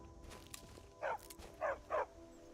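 A hunter's dog in Skyrim gives three short barks in quick succession, moderately near, over low game ambience.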